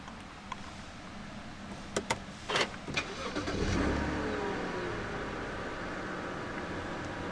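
A 2010 BMW 323i (E90 3 Series) started with the push button: a few brief clicks, a short cranking burst, then the engine catching and settling into a steady, fairly close idle.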